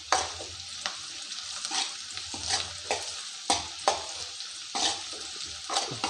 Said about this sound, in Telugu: తర్వాత తిప్పుకోవాలి, మొత్తం కలపాల.